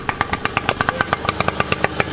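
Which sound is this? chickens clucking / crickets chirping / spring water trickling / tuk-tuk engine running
tuk-tuk engine running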